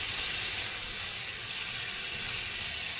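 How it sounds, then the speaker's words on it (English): Olive oil sizzling on a dry Blackstone griddle, a steady, soft hiss with a faint sputtering crackle, close by and unbroken, no talk. "Kind of hear the sizzle."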